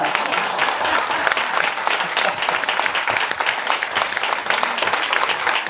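A studio audience at a French television show applauds loudly and steadily, a dense wash of clapping that holds at full strength throughout with no voices on top.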